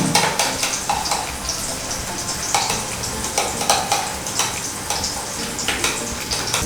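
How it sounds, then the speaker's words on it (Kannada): Tomato, salt, pepper and chaat masala being stirred in a pan, with repeated scraping strokes and a soft sizzle in a steady rhythm, close by and without talk. "ಇದನ್ನು ಈ ಥರ ಚೆನ್ನಾಗಿ ಮಿಕ್ಸ್ ಮಾಡ್ಕೊಳ್ಳಿ ಎಲ್ಲನೂ"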